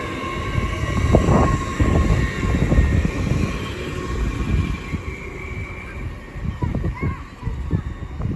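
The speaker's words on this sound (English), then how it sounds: "Now departing is the 1157 CrossCountry service from Stansted Airport to Birmingham New Street." A CrossCountry passenger train departs Peterborough station: a loud rolling rumble with clanks and rattles that swells and then eases as it pulls away, with voices heard over it.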